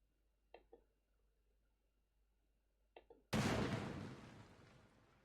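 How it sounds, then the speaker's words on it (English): Game explosions in Honkai Impact 3rd: two short muffled thuds, each a quick double knock, then a loud deep blast that booms and slowly rumbles away; no voices. "Explosions."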